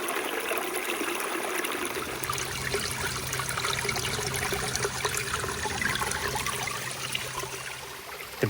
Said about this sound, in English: I hear running water. I think this creek is the start of Spirit Falls.